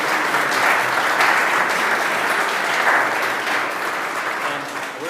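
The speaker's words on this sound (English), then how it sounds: "So let's give them a round of applause." Steady audience applause fills a city board of aldermen meeting room, a dense even patter of many hands lasting several seconds before tapering slightly at the end.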